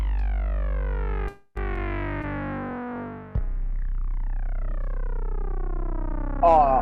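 A heavy synthesizer preset from an Ableton VCR Wave pack plays dense, detuned chorused tones with sweeping pitch glides and a low sustained bass, cutting out briefly before resuming, reminiscent of a console startup chime; no talk over it.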